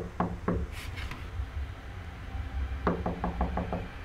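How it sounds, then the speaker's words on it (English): In the game Fears To Fathom, two quick knocks on wood in a lookout tower, then a pause and a faster run of about six knocks, close and crisp over a low hum. "that sounded like a knock in here"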